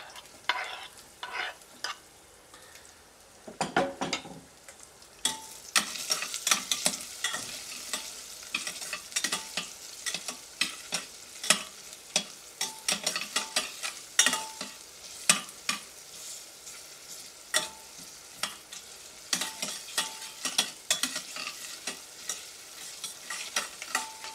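Onions and ginger stir-frying in a pan, a soft sizzle broken by repeated scraping and clattering stirring strokes at uneven intervals, close and alone.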